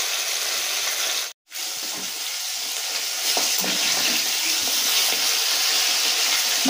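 Tangra fish frying in a pan of hot oil, a steady loud hiss and crackle close up, briefly cut to silence before the sizzling resumes.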